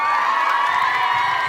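Concert audience at an outdoor anniversary celebration clapping along during a live song, a dense steady roar of crowd noise with scattered shouts and cheers, continuous and close throughout.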